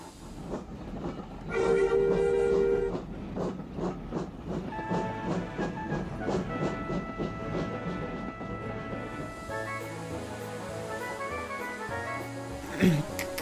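A model railway engine rumbles and clanks as it hauls empty coaches, with a whistle sounding early on and metallic squeals and rhythmic clatter throughout.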